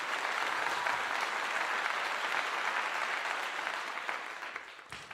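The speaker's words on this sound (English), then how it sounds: "Let's give it a clap." A crowd breaks into steady applause, a dense burst of many hands clapping that fades slightly toward the end.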